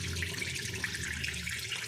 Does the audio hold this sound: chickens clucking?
no